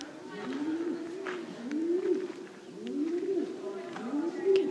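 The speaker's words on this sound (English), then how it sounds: "You can hear the pigeons like going insane." Pigeons coo in a steady, repeating rhythm of soft, rolling calls, fairly close and echoing inside an underground stone city, with faint background voices.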